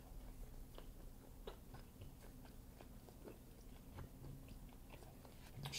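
Someone chews crispy homemade pizza crust up close, with faint, irregular crunching bites over a quiet room background and no talking.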